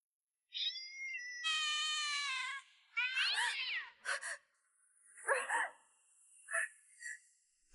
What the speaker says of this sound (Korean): 언제 고양이를 기르게 되었나요?